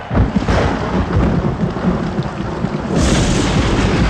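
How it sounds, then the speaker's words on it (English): Thunderstorm with heavy, steady rain and rolling thunder, loud and close throughout, with a fresh surge of downpour or thunder near the end; no voices. "we're in for the storm of the century"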